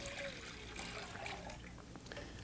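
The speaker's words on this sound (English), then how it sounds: "One of our pots we're going to add our water." Water running steadily into a cooking pot in a kitchen, a continuous close splashing pour lasting the whole moment, with no voices.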